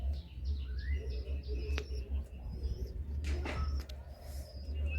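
Pigeons at a loft in Howrah, Madrasi and Andhra breeds, give soft low cooing and a few brief chirps over a steady low background hum, fairly close and moderate in level.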